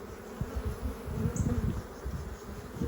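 Honey bees buzz steadily around a mason jar hive, a close, continuous low hum with individual insects flitting near and away, no voices present.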